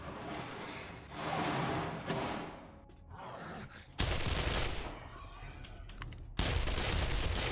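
Rapid submachine gun bursts in a video game, coming in several loud volleys separated by short quieter gaps, with sharp onsets where new bursts begin.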